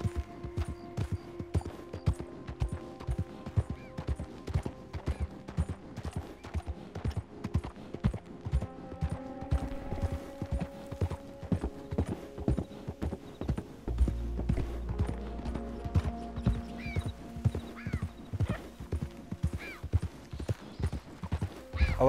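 Horse hooves galloping across open country in the video game Red Dead Redemption 2, a steady rapid clip-clop rhythm throughout, with occasional whinnies and light ambient wildlife.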